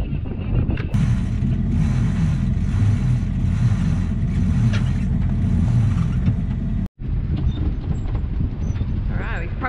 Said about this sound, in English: Thank you, Zach, for pointing out that I needed to loosen this halyard to the boom.